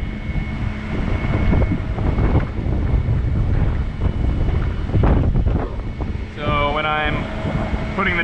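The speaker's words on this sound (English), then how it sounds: "It is a little windy." Steady wind gusting across an open outdoor site beside a truck hauling a new forklift, buffeting the microphone throughout with a constant low rumble, and a brief high whine near the end.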